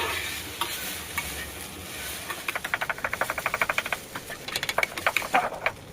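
Curry leaves fry and sizzle in a pan while a spoon stirs them, a soft frying hiss under a quick run of sharp rhythmic scraping taps, then more clustered clatters near the end, close up with no talking.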